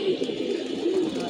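Young pigeons coo in soft, continuous throaty warbles close by, the low murmuring notes overlapping through the brief moment with no talk.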